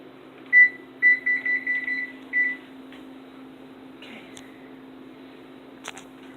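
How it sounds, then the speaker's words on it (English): An oven timer beeps in a home kitchen where coconut is toasting at 375 degrees, a short burst of high electronic beeps near the start, then quiet with a few faint clicks. "our timer went off"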